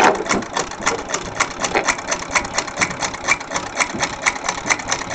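A sewing machine fitted with a buttonholer attachment stitches a buttonhole, giving a steady, fast mechanical chatter of repeated needle strokes while the fabric shifts back and forth; close and continuous, with no talk.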